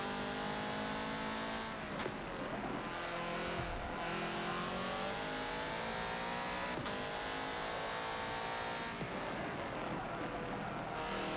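A racing car's engine in Forza Motorsport 7 on a wet Brands Hatch circuit, revving steadily and close up with a loud, sustained tone that rises and falls in pitch. Faint tire noise sits underneath.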